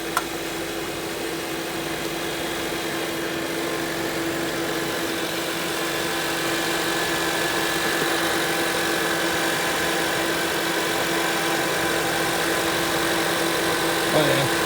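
A car engine idles steadily throughout after starting clean with a newly replaced starter, a continuous even hum with a faint bump near the end and no talking.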